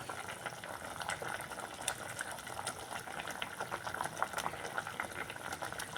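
Lentil dumplings drop one by one into a pot of boiling kuzhambu gravy, which keeps up a steady bubbling and spluttering with scattered small splashes and pops, close and fairly quiet.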